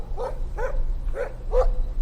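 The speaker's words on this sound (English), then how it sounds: "There's the dog. Stop that. Stop. No barky." Dog barking in the video game Life Is Strange, four evenly spaced barks over about two seconds, fairly close and clear above a low steady background hum.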